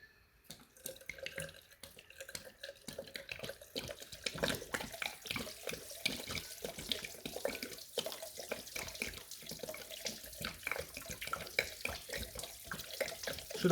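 Water gushes and splashes through the cooling system of a rusty Mk1 Ford Escort panel van being flushed indoors, a continuous irregular pouring with drips and spatters, close and fairly quiet.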